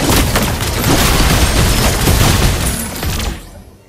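Layla fires golden bullets in the Mobile Legends video game, producing a loud, dense barrage of overlapping gunshots and booms that runs continuously for several seconds, then fades out abruptly, with no talking.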